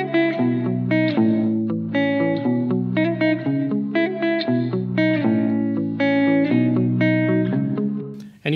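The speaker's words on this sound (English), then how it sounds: "you can hear it sounds a little awkward because the reverb is now short, but there's still a lot of reverb" A plucked, synth-like melodic phrase repeats in steady notes through a reverb effect whose decay has been shortened, leaving brief tails between notes, loud and with no voices.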